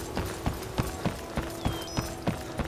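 Steady, evenly spaced hoofbeats of a horse clip-clop at a walking pace in the video game Skyrim, sharp and close over a soft hum of game ambience.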